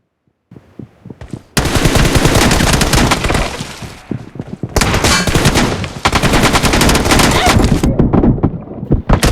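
Rapid bursts of automatic gunfire in the BGMI / PUBG battle royale game, loud and dense, with short pauses between long sustained volleys.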